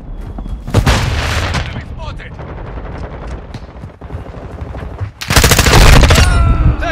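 Gunfire in a Call of Duty Modern Warfare 2 team deathmatch on a hydroelectric map, rapid automatic bursts and sharp cracks with booming impacts, a heavy volley at the start and another loud burst near the end, with radio chatter mixed in.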